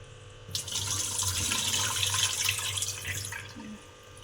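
Dishes washed under a running kitchen tap, a steady broadband rush of water lasting about three seconds with faint clinks, close and fairly loud, no talking.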